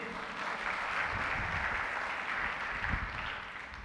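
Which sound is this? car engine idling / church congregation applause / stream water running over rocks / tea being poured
church congregation applause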